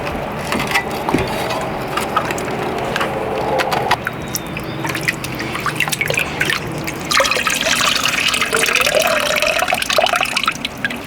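Water and gravel swirl and slosh in a gold pan during a final pan, up close and fairly loud, with continuous trickling, splashing and the gritty rattle of stones.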